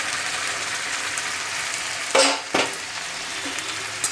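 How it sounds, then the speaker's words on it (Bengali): Onion, tomato, bay leaf, whole garam masala and ginger-garlic-onion paste frying in a pan for chole, a steady close sizzle with a couple of sharp bursts as paste hits the oil, no voices. "দেখো এগুলো ভাজা ভাজা হয়ে গেছে, পেঁয়াজ টমেটো তেজপাতা আস্ত গরম মশলা ভাজা ভাজা হয়ে গেছে"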